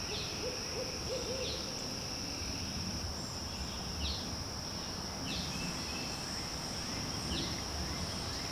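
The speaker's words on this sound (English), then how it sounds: "the owls calling back and forth to each other" Owls hooting back and forth at night at a national park campsite in South Carolina, repeated hoots at a moderate distance over a constant chorus of insects and crickets.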